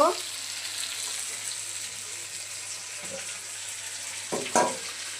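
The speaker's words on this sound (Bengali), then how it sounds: "মাংসগুলো হালকা ভেজে নিচ্ছি।" Chicken pieces sizzle lightly in a hot pan, a steady soft frying hiss with a few brief clinks and stirring knocks near the end.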